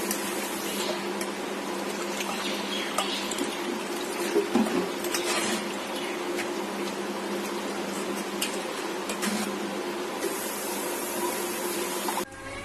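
About one to one and a half litres of water being poured into a pot while making kalakand at home: a continuous splashing, rushing stream runs for several seconds at a steady, fairly loud level, then cuts off abruptly near the end.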